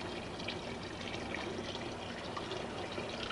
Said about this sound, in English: We get water over there at the faucet.